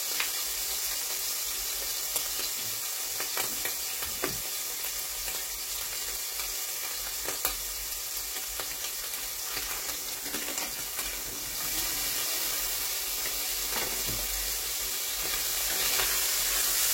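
Steady crackling sizzle of diced ham frying in a pan, continuous and close, with occasional faint clinks and no talking.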